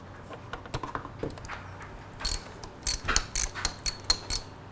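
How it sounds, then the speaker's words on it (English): A ratchet loosens the pinch bolts on a Yamaha R3 motorcycle with short irregular clicks, then a faster run of louder ratcheting strokes, close by with no talking. "We loosened all our pinch bolts."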